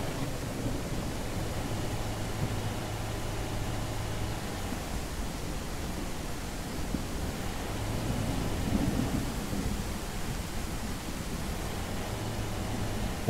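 Steady rain with a low rumble of thunder in the survival video game Mist Survival, a constant broadband wash that swells slightly around the middle and runs unbroken without any voices.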